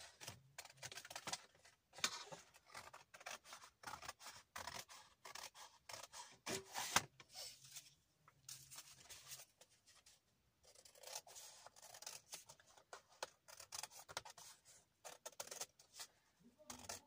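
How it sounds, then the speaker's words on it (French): Scissors snipping through material for a handmade suitcase, a close, busy run of crisp cuts and rustles over about seventeen seconds, with a few short pauses and no clear talk. "J'aime bien couper pour voir."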